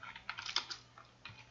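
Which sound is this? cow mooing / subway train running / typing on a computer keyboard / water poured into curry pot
typing on a computer keyboard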